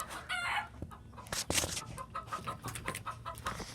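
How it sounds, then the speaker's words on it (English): Farmyard chickens, a wild one among them, cluck in quick irregular bursts with a crow breaking through, fairly close and mixed with scratchy outdoor rustling. "And a wild chicken right there."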